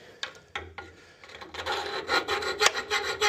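A hand file rasps at the holes of a bicycle part during installation of an Enviolo hub on a cargo tricycle, a few isolated scrapes at first, then a steady run of close, rhythmic strokes.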